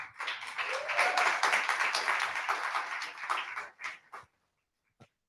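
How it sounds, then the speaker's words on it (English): Audience at a community social-innovation gathering giving themselves a round of applause, a brisk burst of clapping that tapers off with a few last claps, then silence and one lone clap. "give yourselves a round of applause for coming out"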